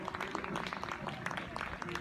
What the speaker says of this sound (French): Bon, on va applaudir sur tout leur parcours.